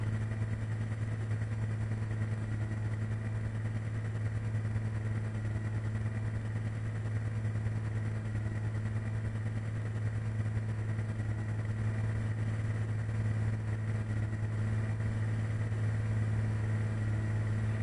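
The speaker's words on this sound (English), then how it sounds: "That engine doesn't sound too good." An aircraft engine drones at steady power in Coastline Flight Simulator, playing on PS5, and seems to be running rough. It is a constant low hum with no change in pitch and no speech.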